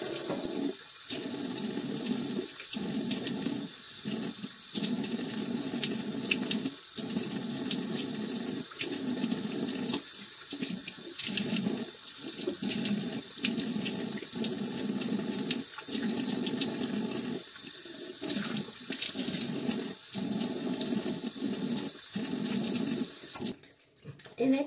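A face being washed under a steadily running tap during a skincare routine. The water hisses continuously close by, broken by brief splashy dips where hands scoop and rinse.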